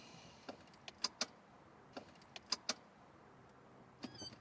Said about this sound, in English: Absolutely nothing when you turn the key.